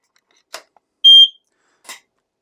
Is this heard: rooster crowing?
no